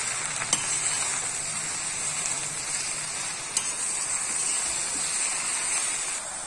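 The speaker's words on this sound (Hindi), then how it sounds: "अब इसको हम चला लेंगे अच्छे से।" Ridge gourd sabzi with chilli powder and green chillies cooks in a pan, giving a steady soft sizzle and hiss with a couple of faint clicks from stirring, close and continuous, with no talking.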